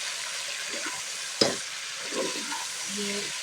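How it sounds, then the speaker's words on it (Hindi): Meat being browned in hot masala in a home kitchen while cooking nihari, with a steady broad sizzle and occasional stirring scrapes, including one sharp clank of the spoon against the pot. "अब हम इसमें माशाल्लाह गोश्त डाल रहे हैं। ये हम मसाला में भूनने"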